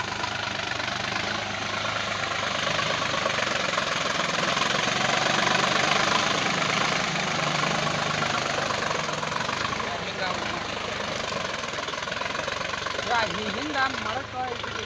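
An ACE 350 40 hp tractor engine pulls an MB plough in a field demo, a loud, steady, dense running drone lasting throughout, with voices talking over it.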